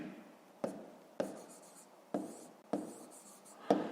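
Pen strokes on paper while writing out a Year 5 maths equation by hand, five distinct scratchy bursts, each starting sharply and trailing off, close and quiet, with no talking.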